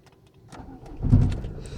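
A 1993 Citroën ZX 1.9 TD diesel engine cranks and catches after glow-plug preheating, a brief nearby start building into a low rumble that settles into idle.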